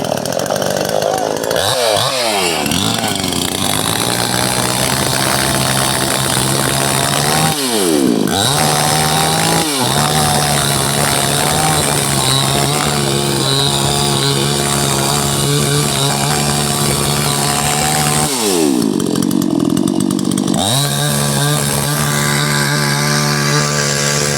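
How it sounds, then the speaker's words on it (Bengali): Chainsaw cutting through a tree trunk outdoors, the engine roaring loud and close without pause, dipping briefly in pitch three times as the revs drop and climb again while the blade bites into the wood. "আবার মেশিন দিয়ে গাছটাকে কাটছে সুন্দর করে"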